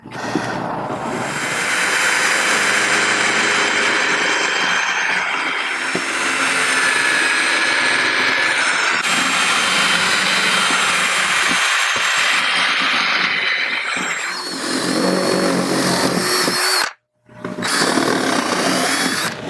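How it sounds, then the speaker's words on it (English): A portable drill press whines loudly and continuously, its pitch shifting as it bites into material, then briefly cuts out before starting again. "we're just going to use this little portable drill press"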